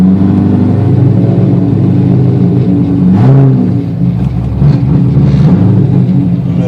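From inside a car with a drivetrain fault at the torque tube and shifter, a loud, continuous low hum and rumble fills the cabin, briefly dipping and shifting in tone midway before resuming.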